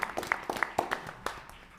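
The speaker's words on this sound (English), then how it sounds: "That is worthy of a round of applause" Scattered hand claps from a board meeting audience in a room, a dozen or so sharp irregular claps spread over under two seconds, fairly quiet and thin rather than a full ovation.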